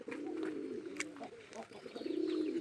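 Domestic pigeons coo in a country pigeon farm, several close, throaty coos rolling over one another in soft repeated bursts with faint background noise.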